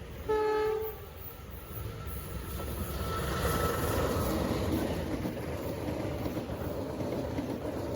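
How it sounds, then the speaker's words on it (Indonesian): The Pandanwangi passenger train, running from Jember to Ketapang Banyuwangi, sounds a short horn blast and then rumbles past steadily and loudly, with wheels clattering over the rails for several seconds. "Segera melintas kereta api Pandanwangi dengan nomor 491 dengan rute Jember menuju stasiun akhir Ketapang Banyuwangi"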